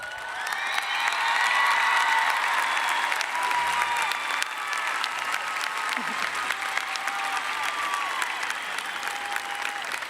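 Sustained applause and some cheering from a large graduation crowd at Alvin High School, honoring two graduates for perfect attendance; loud, steady clapping fills the space with a faint voice underneath.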